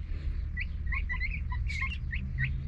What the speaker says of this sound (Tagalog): Mga ibon guys, wild birds.